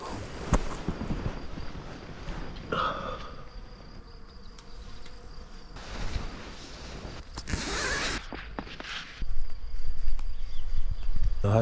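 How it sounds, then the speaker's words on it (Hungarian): Mosquitoes swarm around a riverside campsite on the bank of the Rába at Molnár Szecsőd, a steady insect whine running continuously beneath broadband rustle and handling noise, with no talk. "tele van szúnyoggal a hely"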